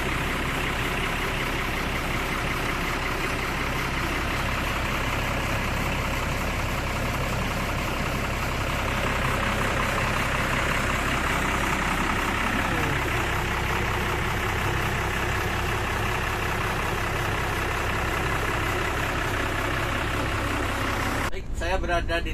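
A steady idling diesel engine of an Aneka Jaya SR2 HD Prime coach, heard from inside the cabin as a constant low rumble with a brief rustle near the end.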